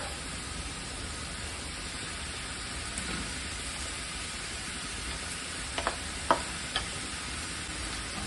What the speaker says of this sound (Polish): Mieszamy wszystko dokładnie.